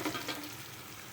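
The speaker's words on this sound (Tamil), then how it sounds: "சின்னதாக கட் பண்ணி வச்சுருந்த பெரிய வெங்காயம் கொஞ்சமாக சேர்த்துக்குங்க. இது கொஞ்சம் நல்லா வதங்கட்டும்." Onions sautéing in hot oil with mustard seeds, urad dal and cumin give a steady, close sizzle with a brief stronger crackle near the start and no talking.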